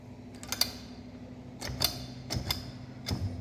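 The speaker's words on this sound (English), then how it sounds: "This is the ointment tube sealing machine." An ointment tube sealing machine closes the open end of a tube with a low steady hum under a few sharp mechanical clicks and ticks spaced irregularly, heard up close and fairly quiet.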